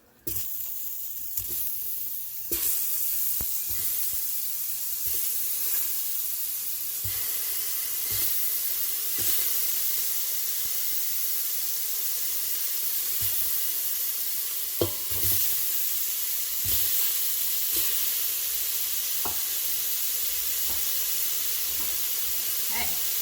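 Jackfruit frying in oil inside an Instant Pot, a steady close sizzle and hiss running throughout with occasional stirring clinks and scrapes.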